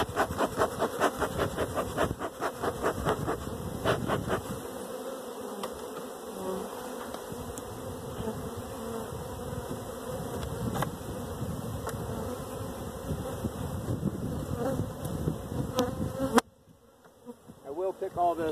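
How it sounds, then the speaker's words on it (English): Honey bees buzz around an open hive box, a dense, continuous, close-up drone with individual bees passing near, holding steady until it is cut off abruptly near the end. "that's a beautiful box of bees"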